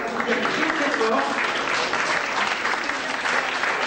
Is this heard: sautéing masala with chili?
no